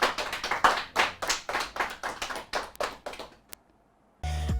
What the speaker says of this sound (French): avec les applaudissements s'il vous plaît